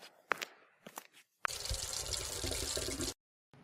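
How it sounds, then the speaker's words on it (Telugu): Hands being washed under a running tap in a cartoon: a few soft knocks, then a steady gush of water for about two seconds that stops abruptly. "ముందు మీరెళ్ళి చక్కగా చేతులు కడుక్కొని రండి"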